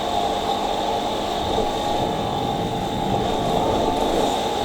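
A steady rumbling train passage in GTA 5 with a continuous metallic whine, sustained and even in loudness, no voices.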